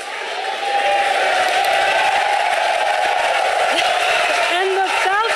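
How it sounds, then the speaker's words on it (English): A large crowd in Mission Control cheers and applauds steadily and loudly after a SpaceX Falcon first-stage landing, a dense continuous roar with a few voices rising above it. "There's a big crowd in Mission Control behind me, as you probably could tell."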